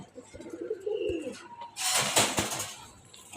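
Budapest racing pigeons coo softly and close by, a few low throaty calls, followed by a loud rustling burst of movement and wing flutter near the middle.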